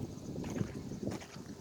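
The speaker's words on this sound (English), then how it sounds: "Very windy." Gusty wind blows outdoors on a cold, sunny day after a snowstorm, soft buffeting rushes that swell in two brief surges over a quiet background, with no speech.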